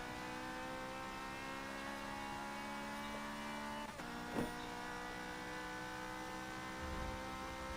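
Ferrari race car driving at a motorsport event, a steady loud engine whine with layered harmonics held throughout, a brief dip and bump near the middle.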